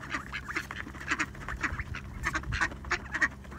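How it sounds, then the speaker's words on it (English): Ducks quack in rapid, overlapping bursts during feeding, a busy chattering flock close by with soft splashes and movement beneath. "There's the feeding frenzy for the ducks."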